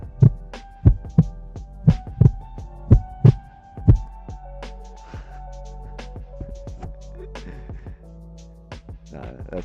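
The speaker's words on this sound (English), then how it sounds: "Nah, that's Wix's heartbeat." Heartbeat sound effect on a live stream: a loud, close lub-dub thump pattern repeating about every second, then fading under a low hum and sustained electronic tones.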